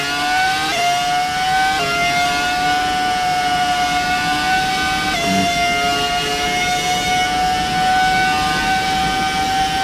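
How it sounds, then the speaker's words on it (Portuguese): Williams BMW Formula One car engine in the racing game F1 2018, a German V10 screaming at high revs: a loud sustained whine that climbs and drops slightly at a few gear changes, steady and alone with no voices. "o Williams BMW, hein? Vamos ver esse motor alemão gritando aqui"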